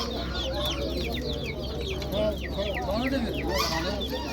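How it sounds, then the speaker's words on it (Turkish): Two-month-old ornamental chickens and pullets cluck in a steady, overlapping chorus at a bird market in Eskişehir, moderately close and filling the background with busy chatter-like calls. "Süs tavukları, piliçler 2 aylık."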